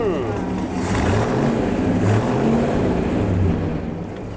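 A big Chrysler Hemi engine in a 1955 Chris Craft Cobra boat rumbles steadily at close range, its low throbbing idle rising slightly in the middle before settling, with voices faintly underneath.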